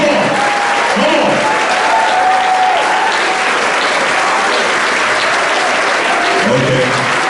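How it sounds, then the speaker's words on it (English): Sustained applause from a large audience at a high school football banquet honoring freshman and sophomore players, loud and dense throughout, with cheering voices mixed in. "A round of applause for the future, the freshman and sophomore."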